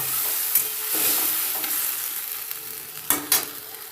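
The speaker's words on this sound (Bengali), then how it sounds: "মশলাটা দিয়ে খুব ভালো করে মিশিয়ে নেবো" Soaked spice paste being stirred into potatoes and onions frying in a pan for a light dinner, a steady sizzle broken by a few louder scraping stirs near the end, with no talking.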